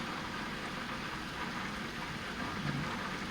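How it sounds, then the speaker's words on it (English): Heavy rain pours steadily across a suburban cul-de-sac during a severe storm, a dense, continuous hiss of downpour that stays loud and even throughout with no voices. "Heavy rains now scudding across the cul-de-sac."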